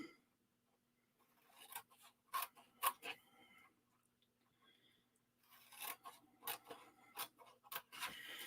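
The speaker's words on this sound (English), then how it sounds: "So I'm going to just cut up the score line." Scissors cut through paper box flaps along a score line in a quiet room, a series of close, crisp snips in two bursts separated by a brief pause.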